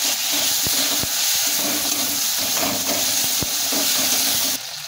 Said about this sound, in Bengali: হালকা করে কয়েকটি দানা চিনি দিয়ে দেবে। দিয়ে ভালো করে মশলাটাকে আরও ভেজে নেব।